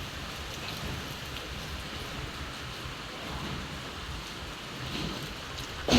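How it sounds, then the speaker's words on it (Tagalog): Steady rain pattering and rainwater dripping indoors from a ceiling, a dense wash of water sound with a low rumble beneath, continuous throughout and slightly louder at the very end. "Diyan po napatak yung tubig ulan."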